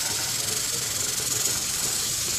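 Corn and cabbage soup bubbling in a pot on the stove while being stirred, giving a steady close hiss and simmer with faint scraping underneath, and no voices.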